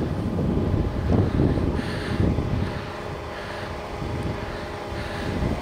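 A Sherp all-terrain vehicle crawling through deep snow, a steady low engine drone with rumbling, churning surges, loud and continuous with some wind-like buffeting.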